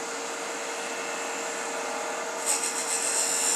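A woodturning scraper with a flat cutter on its tip cuts wood on a lathe, a steady close whirring hum that turns into a rougher scraping rasp partway through.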